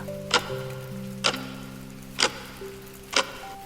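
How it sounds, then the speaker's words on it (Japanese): A clock ticks in a quiet late-night clinic setting: four crisp, evenly spaced ticks about a second apart over a soft steady background hum. "今時計の音が聞こえていると思いますが"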